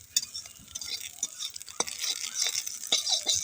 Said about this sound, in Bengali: এইভাবে কিছুক্ষণ নাড়াচাড়া করতে করতে 5-6 মিনিট মতন আমার কিন্তু নিম পাতাটা ভাজা হয়ে গেছে।